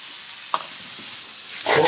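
Tomatoes and spices cook in a pan, giving a steady soft sizzle with a faint stir or tap midway and a louder scrape of stirring at the end.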